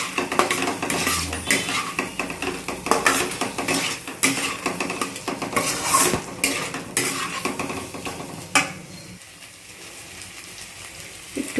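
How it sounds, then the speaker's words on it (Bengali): Fried potatoes are stirred with spices in a pan. A spatula clatters and scrapes against the metal in quick, loud, irregular strokes over a soft sizzle, and the strokes stop near the end. "আলুগুলো দিয়ে একটু মশলার সঙ্গে ভালো করে কষিয়ে নেব।"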